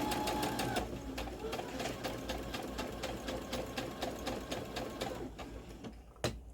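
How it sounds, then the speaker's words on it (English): A sewing machine runs a top stitch along the edge of blue jeans, a steady rapid needle chatter close by that stops near the end with a final clack, with faint talk beneath. "just run a top stitch right along that edge."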